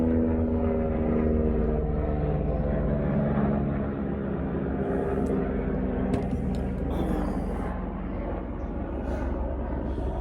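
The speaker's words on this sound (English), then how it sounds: "bleeding helicopter going over" A low, droning engine rumble from a passenger helicopter passes overhead, loud and steady, slowly fading over several seconds.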